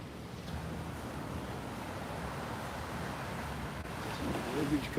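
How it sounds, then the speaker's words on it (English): Ocean surf rolling in at Baloy Beach in the Philippines, waves breaking against a seawall as a steady, broad wash of noise with a slight swell near the end, mixed with wind buffeting the microphone. "Listen to those waves,"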